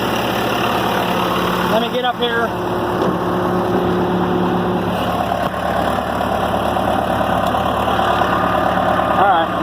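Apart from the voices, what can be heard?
tractor engine idling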